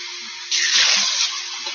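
A measuring cup is rinsed under a running kitchen tap, giving a short steady rush of water that starts abruptly and then eases off, heard close up.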